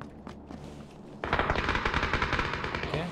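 Rapid gunfire crackles in sustained bursts, fairly faint and distant, with a quieter stretch before it starts.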